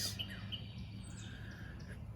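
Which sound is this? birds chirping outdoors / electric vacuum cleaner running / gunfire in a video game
birds chirping outdoors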